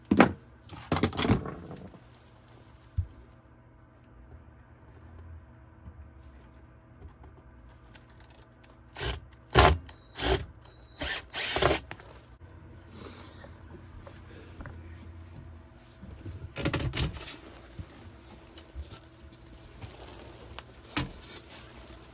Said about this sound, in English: Now all we need to do is just get the screws from the damper at the bottom.